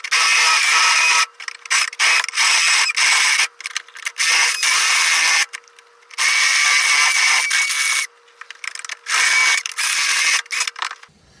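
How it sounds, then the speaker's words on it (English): A grinding stone on a power tool opening a hole for a clutch master cylinder during an LS swap on a third-generation Camaro, loud harsh grinding in repeated bursts with short pauses between, no talking. "I wasn't able to find a carbide bit this morning for whatever reason, so I got a grinding stone"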